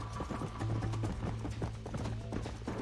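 Horse hooves gallop in a rhythmic clip-clop in the video game Red Dead Redemption, close and steady over a busy game soundscape throughout.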